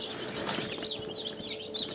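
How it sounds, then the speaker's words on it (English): Chickens clucking inside a coop, a busy overlapping chorus of clucks and high chirps that continues steadily and sounds close by. "shoo all the chickens off them"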